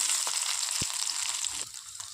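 Steady, dense sizzling of finely chopped shallots frying in hot oil fills the clip, with a couple of brief soft knocks partway through.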